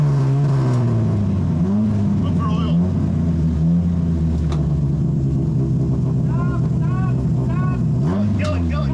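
An amateur endurance race car at a 24 Hours of Lemons event in New Jersey idles loudly nearby and is blipped a few times, its engine pitch rising and falling, while people talk over it.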